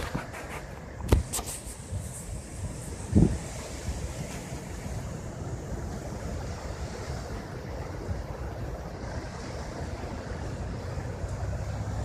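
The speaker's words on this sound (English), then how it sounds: "So this is the falls of the Ohio River, where the fossil bed is." Water rushes steadily over the falls of the Ohio River beside an exposed fossil bed, a constant broad outdoor wash with wind buffeting the microphone and a couple of brief knocks early on.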